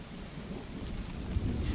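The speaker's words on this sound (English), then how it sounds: "Thunder." Deep rumbling thunder rolling under steady rain during a lightning storm, a continuous low roar that swells slightly toward the end, with no voices.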